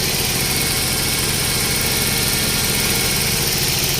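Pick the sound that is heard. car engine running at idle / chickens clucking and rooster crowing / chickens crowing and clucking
car engine running at idle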